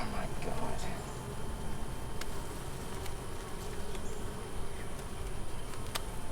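A dense, steady buzz of many honeybees at a beehive hums throughout, close and continuous with a few clicks and knocks.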